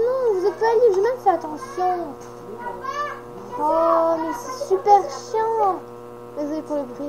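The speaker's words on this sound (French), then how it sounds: "Désolé pour le bruit, mes frères et sœurs" Young children's voices chattering and squealing in the background of a room, intermittent high-pitched babble over a steady electrical hum.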